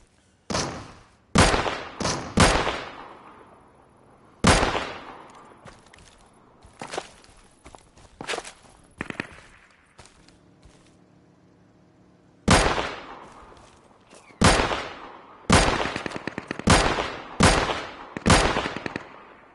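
Gunfire in the video game Deadside: loud bursts of rapid automatic shots and single cracks in clusters with pauses between, sharp and close, with no talk over them.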